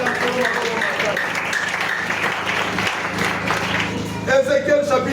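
Church congregation applauding during a French-language service, a steady wash of clapping from a crowd that lasts a few seconds, with a voice rising over it near the end.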